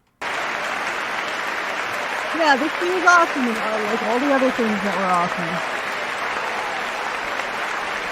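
Steady crowd clapping at the State of the Union continues underneath while someone talks over it, with the clapping remaining dense and even the whole time.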